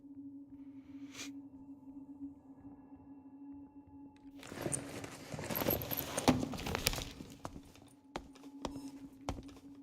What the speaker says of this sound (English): I hear footsteps, I think.